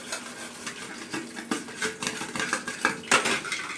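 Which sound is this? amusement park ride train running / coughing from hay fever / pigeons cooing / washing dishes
washing dishes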